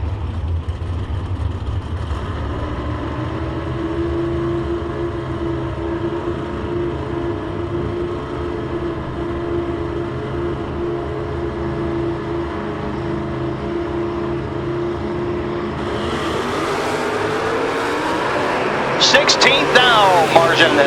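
A Chevrolet Nova and a Mopar Plymouth Barracuda drag race car launching and racing down a drag strip, a steady loud engine drone that rises toward the end, with a commentator talking throughout.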